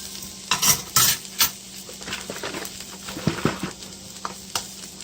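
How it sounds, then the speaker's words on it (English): A utensil stirs cottage beef pie filling in a sizzling pan, with a few sharp metallic scrapes and clinks early on over a continuous frying hiss, close and clear. "I like to stir. Incorporate it."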